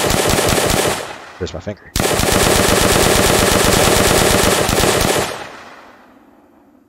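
A full-auto weapon in an Unreal Engine zombie game fires a slow, steady burst of loud rapid shots, briefly broken by a short pause with a few words spoken, then resuming and fading out after about five seconds.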